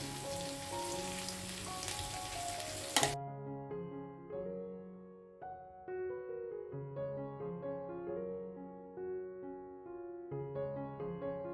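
Cream poured into a hot pan over chicken on a low flame gives a loud, hissing sizzle for about three seconds, then it cuts off and a melodic music track carries on alone.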